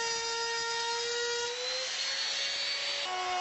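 A Bosch power tool cuts a groove for a drawer bottom in cabinet timber, giving a continuous close, loud whine whose pitch shifts as it bites through the wood, with no talking.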